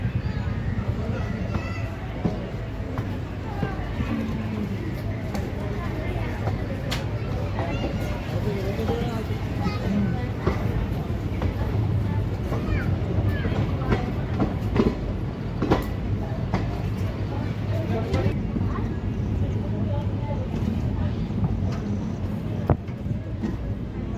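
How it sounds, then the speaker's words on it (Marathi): Passenger train 57657 from Purna to Parli running after leaving Gangakhed station, heard from inside a coach as a steady loud rumble with rhythmic clacking of wheels and someone talking over it. "4:50 गंगाखेड रेल्वे स्टेशनवरून आपली ट्रेन निघालेली आहे."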